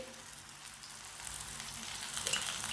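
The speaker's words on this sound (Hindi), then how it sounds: "ये वाली साइड से भी 2 चम्मच ऑयल लगा लेंगे।" Paratha frying in oil on a hot pan, a steady close sizzle and crackle that swells a little louder toward the end, with no talk.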